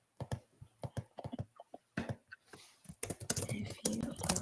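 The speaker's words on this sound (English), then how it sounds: "oh, you can hear my clicking." Computer keyboard keys clicked in short irregular bursts close to the microphone, sparse at first and then denser, rapid typing near the end.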